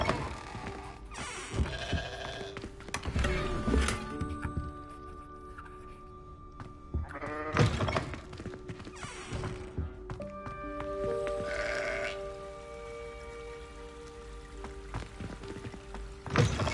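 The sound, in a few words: sheep bleating in Hogwarts Legacy video game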